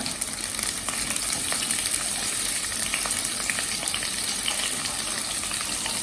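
Hard vegetables such as carrot and cauliflower sizzle and fry in a hot pan for khichdi, a loud, steady crackling hiss close up with faint stirring.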